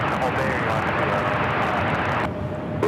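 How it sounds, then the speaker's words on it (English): An Air Canada Jazz CRJ regional jet taking off from a runway at LAX makes a broad, steady jet roar, loud and sustained, before it drops sharply near the end. People talk over it at times. "we have an Air Canada Jazz CRJ going to be taking off first here on runway 1"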